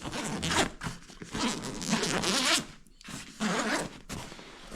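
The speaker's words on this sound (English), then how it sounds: "and then you'll have a zip." The zipper on an Osprey Farpoint 55 or Fairview 55 travel backpack is pulled open in several quick, close, rasping strokes with brief pauses between them.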